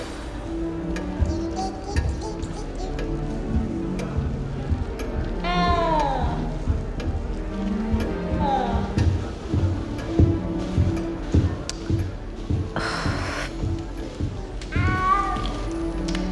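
A cat meows repeatedly in the Hogwarts Legacy video game, several clear rising and falling cries spread across the stretch, over soft background ambience and a faint ticking.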